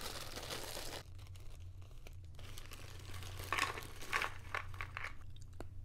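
Quiet crinkling of a plastic bag, close up, in irregular rustling bursts with a low hum behind.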